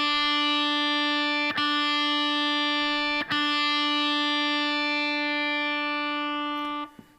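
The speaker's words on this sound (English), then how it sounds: "I've got a heavy dose of distortion on here, using a guitar with a humbucking pickup" Heavily distorted electric guitar through a humbucking pickup, sustained chords ringing out, briefly choked twice and struck again, then cut off near the end, loud and alone.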